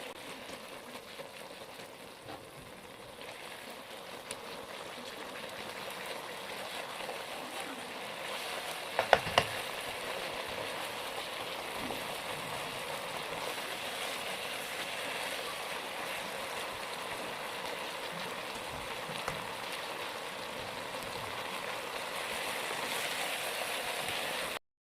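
Tomato masala for masala bhindi frying in a pan, a steady broadband sizzle that runs throughout at moderate level with an occasional clink or stir, no voices.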